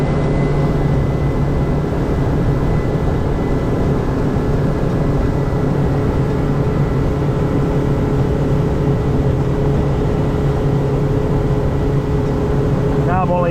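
A boat engine drones loud and continuous as the throttle is backed off, a steady hum with a faint tonal whine that holds level throughout, and someone talks at the very end.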